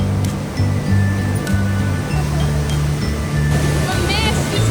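A raging waterfall throwing mist in Banff National Park, a loud, steady, close roar of rushing water filling the whole scene, with voices talking over it.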